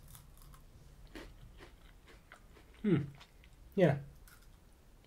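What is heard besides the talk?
biting and chewing crunchy Kinder Bueno White wafer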